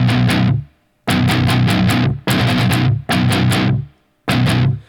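Heavily distorted guitar chugging on open notes in a song, delivered in five tight bursts separated by short silences, loud and close with no voices.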